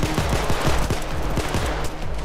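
Automatic gunfire in Payday 2, a fast regular train of punchy shots, near and loud against constant game noise.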